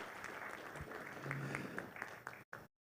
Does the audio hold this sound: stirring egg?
no